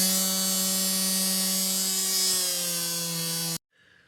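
Electric sander buzzing steadily against a Harley Benton Telecaster guitar body, a loud, even whine with a strong hum that runs unbroken for about three and a half seconds, then cuts off abruptly into near silence.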